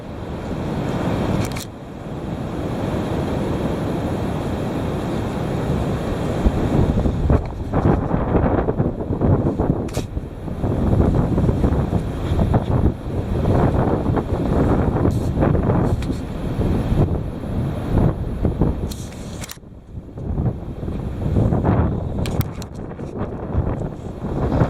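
Heavy wind blows hard and loud into the microphone, buffeting in long irregular gusts with broad rumbling roar throughout.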